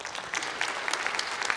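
Conference hall audience applauding panelists at the close of an Internet Governance Forum session, a brief, moderately faint burst of many hands clapping in a steady patter.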